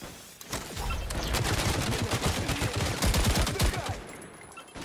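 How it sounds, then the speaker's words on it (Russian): Turret fire in the video game Caliber: dense, continuous bursts of rapid shots sounding steadily for nearly five seconds, loud and close, with no talk over them. "Турелька есть, она стреляет."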